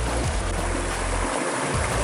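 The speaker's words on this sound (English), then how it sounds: "there we have a little creek" A small creek at Annie Creek near a gorge in the Top End flows with a steady, close rushing and gurgling of water, continuous and loud, with no voices.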